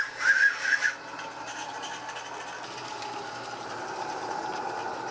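Live steam model locomotive running, with a short high whistle at the start followed by a soft, steady chuffing and mechanical rhythm close by.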